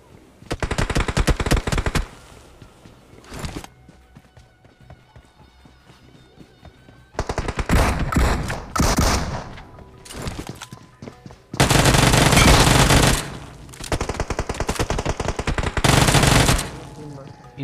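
Video game gunfire while pre-firing at an enemy: loud automatic bursts in several rapid volleys separated by quieter stretches of ambient game sound.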